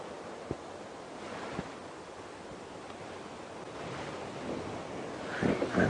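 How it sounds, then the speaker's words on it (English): Gusty wind sweeping across open bush on a late-afternoon safari drive near a riverbed, a steady broad rushing with a few soft thumps, swelling louder toward the end. "this wind is swirling"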